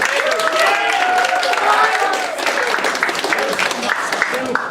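Audience at a live improv comedy show claps steadily, a dense wash of applause that fades slightly midway while voices speak and cheer over it.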